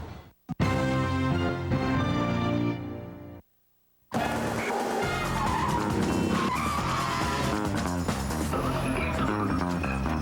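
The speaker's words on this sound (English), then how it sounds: "The V6 Passat. Nice car. Quick, responsive, room for 4." A Volkswagen V6 Passat skids loudly in a TV commercial, a sustained tire screech and engine roar that cuts out briefly, then returns with heavy continuous noise and music-like layers through to the end.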